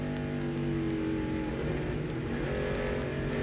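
A NASCAR Busch Series stock car at the 2006 Telcel Motorola 200, its engine droning steadily as the throttle is worked, with tonal engine harmonics shifting up and down over continuous track noise.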